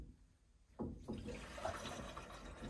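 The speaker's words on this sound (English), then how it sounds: "we are going to turn on this water. So we're gonna let water flow in." Water rushes into a whole house water filter after a valve is opened, starting abruptly and settling into a steady, fairly close hiss and gurgle that continues to the end.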